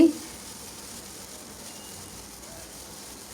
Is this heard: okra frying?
yes